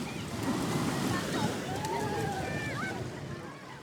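Gentle sea waves lap on a sandy shore at St Ives, a steady soft wash of surf with faint wind, moderately close and heard without voices.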